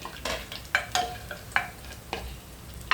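Cashews frying in a pan for carrot halwa, stirred with a series of sharp scraping clicks and brief bursts of sizzle over a faint low crackle, close by with no voices.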